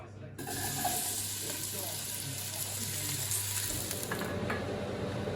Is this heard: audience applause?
no